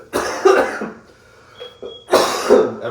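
Two harsh coughs with throat clearing, close and loud, separated by a brief pause.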